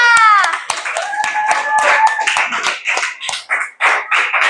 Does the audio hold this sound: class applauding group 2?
yes